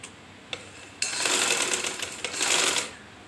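A sewing machine stitches a straight seam on fabric. Two short ticks come first, then two sustained bursts of rapid rattling stitching with a short pause between them, close and clear.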